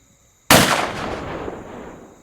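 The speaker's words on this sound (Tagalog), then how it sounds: "Yung paputok na yan." A single firecracker goes off with a sharp, loud bang and then a long, fading rumbling tail over about two seconds, after near silence, with no talking.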